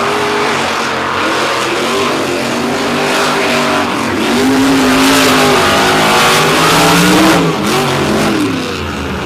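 Jerry Beck's monster truck, a rig that once belonged to Jay Snyder, revs hard on the beach in a loud, sustained roar, its engine pitch climbing and falling through several surges with no break in the noise.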